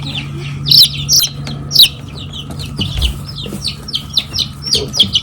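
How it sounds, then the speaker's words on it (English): Chickens cluck and chatter in rapid, repeated bursts close by, several birds overlapping in quick rhythmic calls over a low background hum. "Chicken."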